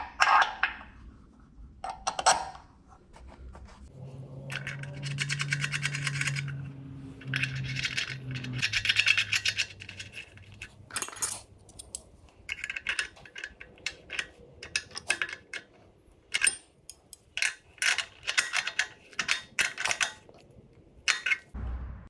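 Metal clinks, taps and rattles of fitting a flexible brake hose to the front axle of a Land Rover Defender 200Tdi, with a steady low hum partway through and irregular close, sharp ticks throughout.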